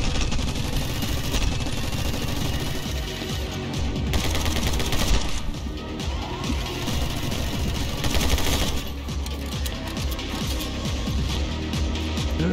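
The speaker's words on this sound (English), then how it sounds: "Shooting his own guys." Video game gunfire in My Friend Pedro rattles out as dense, loud volleys of rapid shots, nearly continuous with brief lulls, over a busy game soundtrack.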